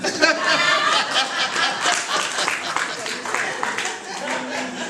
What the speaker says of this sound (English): Now, I'm gonna ask for people to clap.